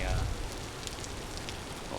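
Steady rain falls in the video game Vintage Story, a continuous even hiss of drops on surfaces with a few brief taps, heard close throughout.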